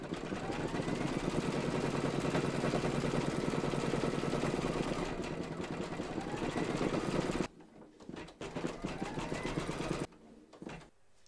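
An embroidery machine stitches a reindeer towel topper in the hoop, its fast, steady needle clatter running loud and close, then stopping and restarting in shorter bursts near the end.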